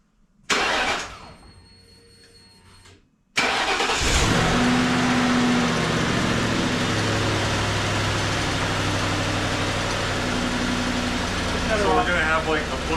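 A Crown Vic circle track race car engine cranks briefly, then catches and runs loud and close, revving and idling roughly in a steady roar with people talking over it.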